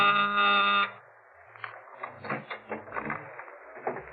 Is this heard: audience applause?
no